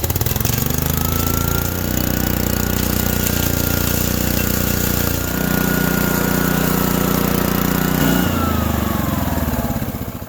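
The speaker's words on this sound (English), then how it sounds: "Enter the Keen RC1. That's going to make light work of this." A Keen RC1 petrol rock crusher engine runs loud and close, a steady chugging drone that shifts in load twice, crushing ore for gold prospecting, with no voices over it.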